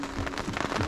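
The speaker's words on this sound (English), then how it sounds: "it is still raining" Rain falls steadily at a prairie campsite, a brief wash of dense patter and drops close by.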